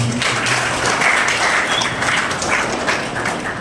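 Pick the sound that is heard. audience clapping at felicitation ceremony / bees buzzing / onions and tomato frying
audience clapping at felicitation ceremony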